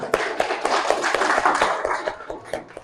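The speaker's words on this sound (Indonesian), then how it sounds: "Tuh, tepuk tangan ya, tepuk tangan." Students in a seventh-grade informatics classroom clap their hands together, a brisk, uneven burst of many hands lasting a few seconds, fairly close and lively.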